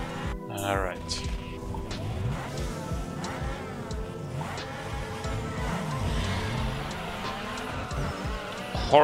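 Race cars in Need for Speed Underground 2 rev and launch off the start line, engines rising in pitch through gear changes with tire noise, someone talking over the steady engine roar.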